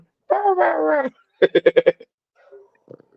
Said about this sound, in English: Y'all hear my little puppy, my little pit bull. He think he a guard dog.